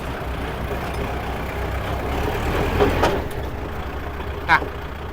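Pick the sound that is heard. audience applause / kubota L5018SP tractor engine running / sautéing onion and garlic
kubota L5018SP tractor engine running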